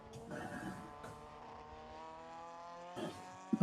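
Classic race cars, an Alfa with a 2-litre engine and a Ferrari with a 3-litre, howl past with sustained engine tones and shifting pitch, one swelling closer near the end.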